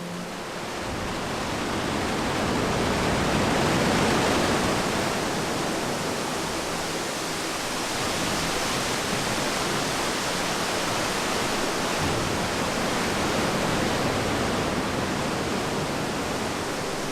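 A small river of water runs down through a sea cavern toward the ocean on Vancouver Island, a steady, full rushing wash of flowing water that holds level and continuous throughout with no voices.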